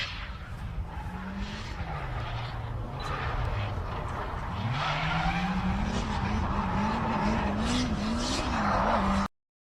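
A car drifting with its tires skidding: sustained tire squeal and a wavering engine note rising and falling over several seconds, fairly close, ending abruptly.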